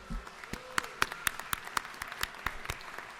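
Applause fills the Georgia House of Representatives chamber, with brisk, fairly even claps that stay moderately loud for a few seconds.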